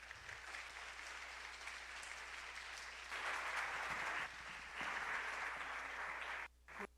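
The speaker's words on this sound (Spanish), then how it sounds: "Démosle la bienvenida con un aplauso" An audience at a personal branding conference applauds steadily to welcome a speaker, with a dense, continuous clapping wash that swells midway and cuts off abruptly near the end.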